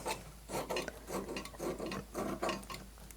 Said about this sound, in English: We're just going to trim off the excess pellon